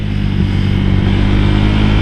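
A motorcycle fitted with a BRT 63mm engine revs hard at full throttle, a loud, close, sustained roar with steady engine drone and no talking.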